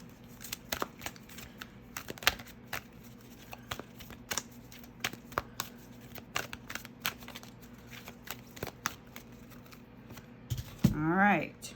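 A tarot card deck is shuffled, giving a long run of quick, crisp card flicks and riffles close to the microphone, ending in a brief louder rustle.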